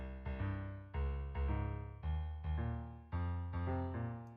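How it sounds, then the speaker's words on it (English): Rising melody over bass notes in video game music, a synthesized sequence of about ten plucky chords stepping upward in an even rhythm, each note decaying before the next, clear and alone with no talk. "I made a rising melody with bass notes and it sounds like this."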